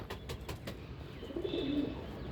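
Ferozpuri pigeons give a short, low, rolling coo near the end, after a few sharp clicks or taps, over a quiet hum with no talking.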